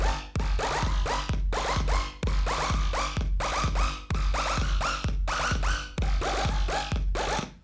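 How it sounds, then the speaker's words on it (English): Bleepy synth pattern repeating in short rhythmic bursts, each note sweeping downward with a bright attack, the phrase looping steadily and loud with no voices. "I'm gonna slowly pitch rise that bleepy synth."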